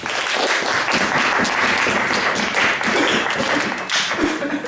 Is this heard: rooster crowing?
no